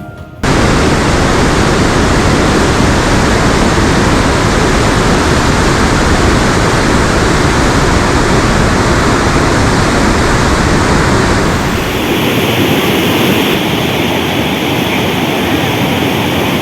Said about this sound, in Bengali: জলের ব্যাপক ফোর্স আর বেশ শব্দ